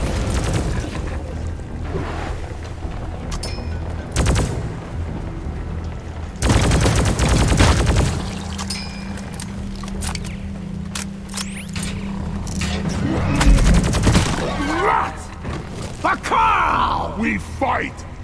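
Bursts of gunfire and explosions in the mining co-op shooter Deep Rock Galactic, loud clustered volleys separated by calmer stretches, with voices and game chatter mixed throughout.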